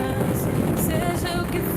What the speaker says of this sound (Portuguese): Esse é o vento.